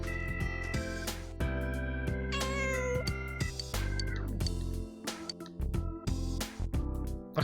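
Cat meowing in the video game Persona 4 Golden, several drawn-out meows set against a steady bed of game music, no talking.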